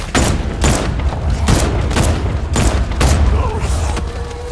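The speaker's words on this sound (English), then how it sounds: "I'm gonna give you zombies a warning shot!" Rapid gunfire sounds out in the Batman Arkham Knight video game, with several loud, booming shots in quick succession followed by fading echo.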